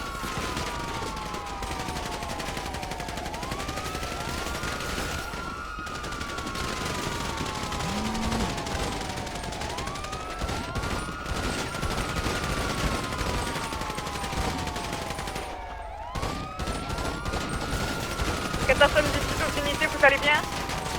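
Sustained gunfire rattles through a police shootout against a cartel in GTA roleplay, overlapping wailing police sirens that sweep up and down repeatedly, with radio chatter and talk mixed underneath for the whole stretch.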